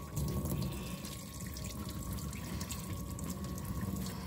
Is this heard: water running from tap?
yes